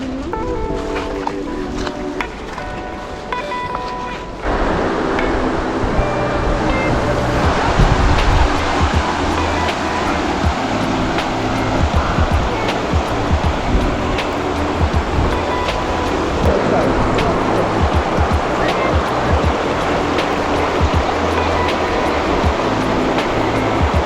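Two rivers meeting in a Carpathian valley, a steady broadband rush of flowing water that rises in strength after a few seconds and continues unbroken, loud and close.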